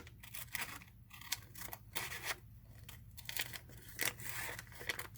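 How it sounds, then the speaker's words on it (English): Scissors snip close to the microphone, cutting a circle out of material, giving a series of crisp, irregular cuts with rustling between them. "And then we're going to cut this circle out."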